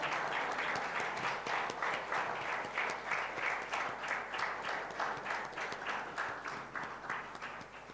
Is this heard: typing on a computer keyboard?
no